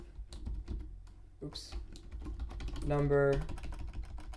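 Rapid keystrokes patter on a computer keyboard while code is typed, close and continuous, with someone speaking over the typing.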